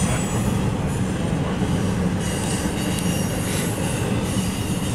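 A train of empty rail cars rolls past close by in a continuous loud roar, with wheel squeal and rhythmic clatter throughout.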